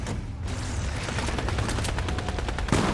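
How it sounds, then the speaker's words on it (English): Rapid gunfire in a video game, likely a shotgun: dense, loud blasts fire continuously across the whole clip with barely a pause between them. "Be careful, somebody has a shotgun."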